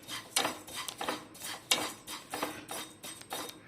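Flattened rice (aval) roasting in a pan while being stirred, with repeated scraping clinks of a metal spoon against the pan in an irregular rhythm, close and fairly clear.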